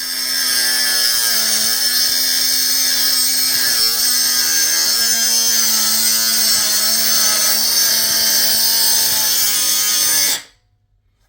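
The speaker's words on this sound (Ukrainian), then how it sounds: "оця болгарочка вона не все время замінить нам е, велику 125-ту болгарку" A Kuang Tian 16.8V cordless mini angle grinder with a 76mm disc whines steadily at high pitch for about ten seconds, its tone wavering slightly under load, then cuts off abruptly into silence.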